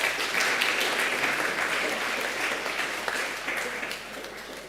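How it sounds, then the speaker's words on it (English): An audience at a National Science Week awards ceremony claps for the winners, a full, dense round of applause that starts strong and gradually tapers off. "Let's give them a round of applause."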